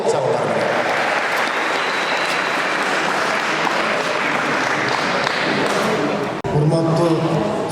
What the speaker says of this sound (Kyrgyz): Кол чабуулар менен.